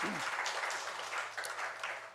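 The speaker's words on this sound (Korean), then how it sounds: "우리 하나님께 다시 한번 영광의 박수 올려드리겠습니다." Church congregation clapping during a Sunday worship service, a fairly faint, steady wash of applause lasting a couple of seconds with no speech over it.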